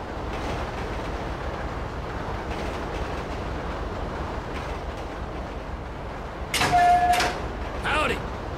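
A steady rumble of a moving train in Grand Theft Auto 5 fills the scene, with a brief squeal and clatter near the end like doors or brakes.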